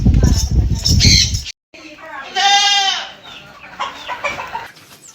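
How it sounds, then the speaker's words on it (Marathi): Desi hens on a village farm, set to brood on eggs for natural incubation, give loud close clucks and a drawn-out squawk, with rustling and handling noise around them. "कोंबडी इथं बसले अंड्यावरती"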